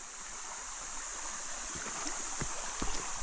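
A small stream of spring water overflowing its basin outdoors, a steady close trickling and burbling hiss with a few soft splashes near the end, no voices.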